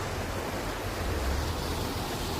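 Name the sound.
water flowing through pipes under highway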